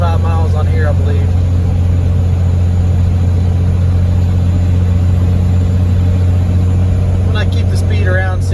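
A Cummins diesel Ford F350 pickup tows cattle and hay in fifth gear along a hilly road. Heard from the cab, a loud, steady low drone continues throughout, with a voice speaking briefly near the start and end.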